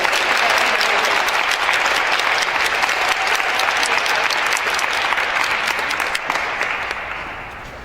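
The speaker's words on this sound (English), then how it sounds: "Big round of applause for this group over here." Sustained applause from a large crowd at a spelling bee, loud and steady, slowly fading toward the end.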